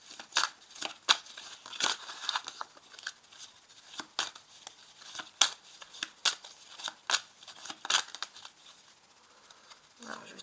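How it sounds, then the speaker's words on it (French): Lenormand cards being shuffled and drawn, with a quick run of crisp papery flicks and slaps, close and fairly quiet, with no talk. "je vais tirer 3 cartes"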